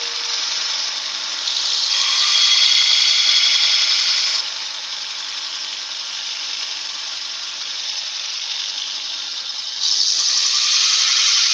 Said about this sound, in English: Now I'm just going to sharpen up my 1/2 inch skew.